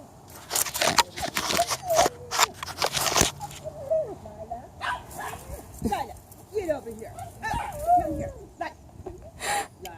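Several loose dogs out on an adventure bark, yip and whimper in short excited bursts, fairly close and loud, with people talking over and between the barks outdoors.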